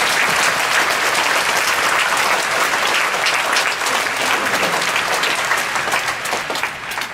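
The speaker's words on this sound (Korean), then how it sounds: "박수 한번 쳐야 되겠습니다." A congregation at a Friday night church worship service claps, loud and dense applause filling the room continuously before easing slightly at the end, with no speech over it.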